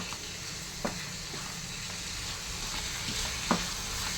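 Tempered roti, vaghareli rotli, frying in a pan while being stirred: a steady soft sizzle with two brief scraping clicks of the spoon, close and fairly quiet, no talking.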